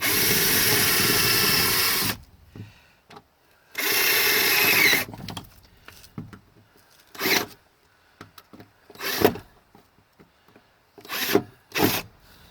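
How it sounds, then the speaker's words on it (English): Several bursts of a power drill grinding into a Volvo S60 front door during a speaker replacement, the first two long and loud, followed by shorter intermittent runs with quiet gaps between. "You kind of got to start drilling in the center."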